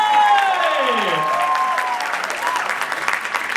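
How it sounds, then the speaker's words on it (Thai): Audience applause for 44 pageant contestants at a live opening show, a loud, dense wash of clapping that runs throughout under gliding musical tones and a fading voice. "ขอเสียงปรบมือครับให้กับผู้เข้าประกวดทั้ง 44 ท่านด้วย"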